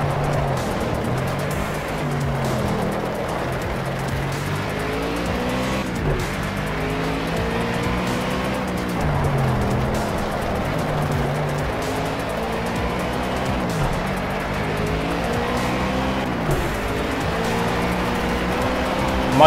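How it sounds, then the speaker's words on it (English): Race car engine revving and shifting through gears in the Project Cars racing game, with repeated rising and falling engine pitch and tire squeal, loud and continuous while players talk over it. "My car is all over the road."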